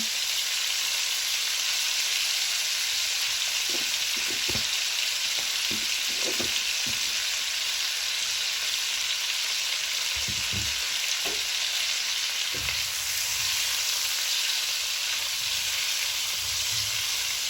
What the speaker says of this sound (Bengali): চিংড়ি মাছগুলো হালকা পোড়া পোড়া করে ভেজে নিব।